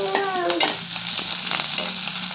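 Broken dried chilies frying in hot oil in a pan, a close, bright crackling sizzle with a few quick scraping stirs, steady and unbroken with no voices.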